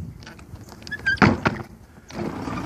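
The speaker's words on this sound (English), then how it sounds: "Service door opens and closes properly from the outside." A bus service door opens and closes from the outside, with a mechanical whir, a couple of sharp thunks and clacks in the middle, followed by a softer settling rumble; close and fairly loud, no talking.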